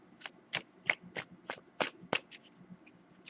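Tarot cards are shuffled by hand, a series of sharp, separate card slaps and flicks at an uneven rhythm, close and fairly quiet, with no talking.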